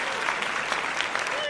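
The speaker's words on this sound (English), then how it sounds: "It deserves a round of applause." A studio audience applauds steadily for a talk-show episode milestone, a dense, even wash of clapping held at moderate loudness throughout, with no pauses or spoken voices.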